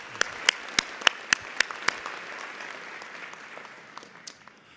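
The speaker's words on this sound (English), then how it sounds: "Let's give them a round of applause." Scattered audience applause for elected officials at the Tulsa Regional Chamber annual meeting and inauguration: a run of sharp, separate handclaps for about two seconds, thinning to a few faint, sporadic claps against a soft room murmur.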